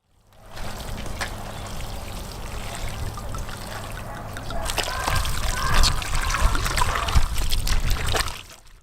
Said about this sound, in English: Pour some wine.